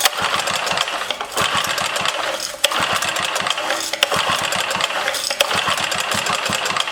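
A small engine running with no oil clatters loudly and steadily after the choke is pulled, a harsh broadband mechanical racket with rapid knocking pulses and a few sharper bangs, close and with no voices.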